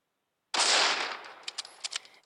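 A sudden burst of gunfire in the mobile shooter Critical Ops, a loud crack trailing off, followed by several quicker, quieter shots in an uneven cluster.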